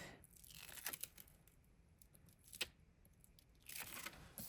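Double-tack adhesive sheet from Grafix peeled up off a card, making soft tearing and crinkling rips in a few separate pulls, close and quiet, with no talking.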